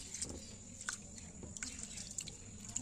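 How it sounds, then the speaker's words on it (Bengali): Water dripping and splashing while rice is rinsed by hand in a kitchen sink for a Bengali basanti pulao, soft wet patters and trickles at a steady low level, close and fairly faint. "চলো এবার আমি জল দিয়ে ভালো করে চালটাকে ধুয়ে ফেলবো"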